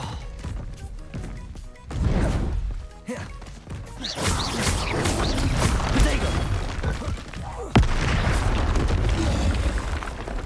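A fire spell cast in the video game Hogwarts Legacy, a sudden boom that swells into a sustained roaring blaze, loud and close, with another sharp burst near the end.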